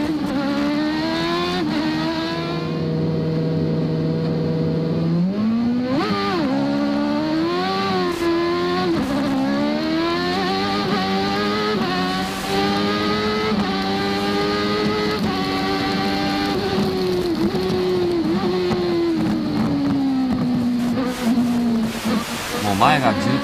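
Michael Schumacher's Formula One car at the 1992 Portuguese Grand Prix at Estoril, heard onboard as the engine idles, then revs and climbs through rising, falling gear changes continuously, loud and close, with a commentator talking over it.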